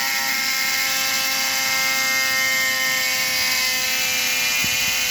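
A small drill bores a hole in a resin piece, giving a steady, close, high-pitched whine with a continuous mechanical tone and no talking.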